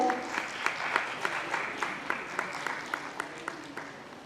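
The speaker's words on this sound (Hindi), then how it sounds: "जोरदार तालियां से स्वागत करिए सर का।" Steady rhythmic applause from an audience at a cultural society's ballet event in Bhopal, welcoming a guest with evenly spaced claps rising above a continuous wash of clapping.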